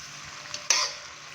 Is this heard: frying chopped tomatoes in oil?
yes